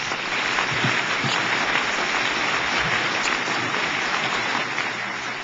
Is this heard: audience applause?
yes